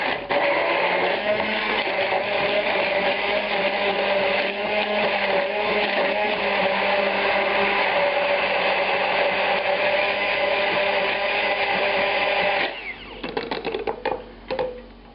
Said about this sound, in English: the solids for this, from this, the mushrooms and the garlic are going to go into this blender cup